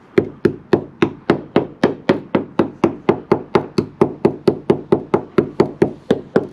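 A hammer striking the rusty roof of a Vauxhall Nova car hard, about two dozen loud, sharp metallic knocks at a steady, even rhythm, close up and with no voices.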